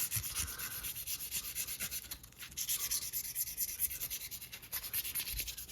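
600-grit sandpaper rubs down inside a recess of a pawn-shop Frontier Double Eagle, a steady close scratchy hiss with quick repeated strokes and no pauses.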